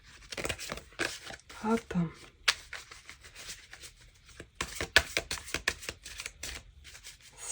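Oracle cards being cut and shuffled by hand in quick papery riffles and soft slaps, close and intermittent, with someone speaking between bursts.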